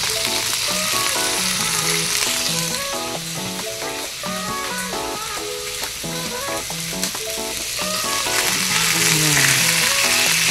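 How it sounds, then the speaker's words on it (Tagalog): Chicken sizzles and fries with garlic, onion and ginger in a loud, continuous hiss with stirring clatter, while someone talks over the cooking throughout. "Nagisa ako ng bawang, sibuyas, at kunting luya."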